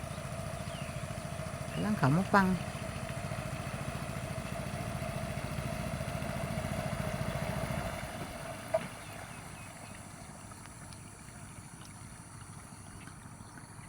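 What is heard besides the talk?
boat engine approaching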